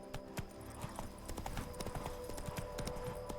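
Roach, the horse in The Witcher 3, clip-clops along a road, steady rhythmic hoofbeats at a moderate level over a low ambient game background.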